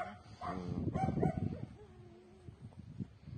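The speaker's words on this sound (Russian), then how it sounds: "Вон собака пошла. Э, иди, иди отсюда." A neighbour's dog, untied and running loose outdoors, gives a brief bark and a whining yelp up close, with a wavering whimper trailing off afterward.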